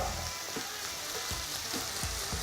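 Sausage fries in a pan with onion and garlic, giving a close, steady sizzle broken by several soft stirring knocks, with no voices.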